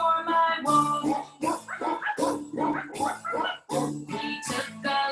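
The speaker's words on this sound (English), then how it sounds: "A doggy joined me for my walk." A dog barks repeatedly in short yips and bow-wows over a bright, sung children's yoga tune, the barks close and mixed in with the music.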